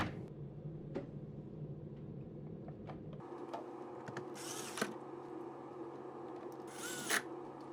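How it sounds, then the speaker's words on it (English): A power drill whirs in short bursts as screws fasten a cover to the side of a KitchenAid refrigerator during an ice maker repair, with clicks and small clanks of handling between runs. "place the cover back into the side of the fridge and then attach it with the remaining screws"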